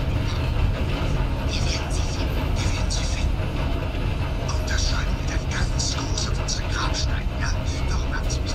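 A train runs in Red Dead Redemption 2 with a continuous loud low rumble and rattling, while a person talks quietly over it.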